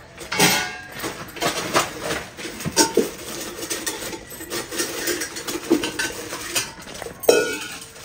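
Kitchen utensils, a knife and a lid among them, clink and clatter as they are handled in a home kitchen, a close series of irregular metallic knocks and scrapes with no talking.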